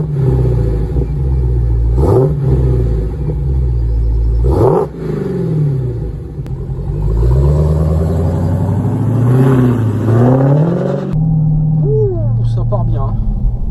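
A Dodge Challenger Hellcat engine is started from cold and given gentle blips of throttle. Its loud idle rumble rises in short revs, with someone talking over it now and then.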